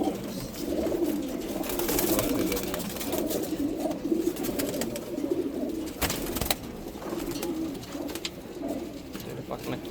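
Pigeons cooing nearby in a soft, continuous rolling murmur of low throaty calls from several birds, with a few brief clicks and rustles over the top.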